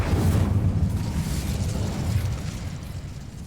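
A fire spell detonating in Hogwarts Legacy gives a loud, sustained roaring burst, dense and rumbling, that slowly fades over a few seconds with no voice over it.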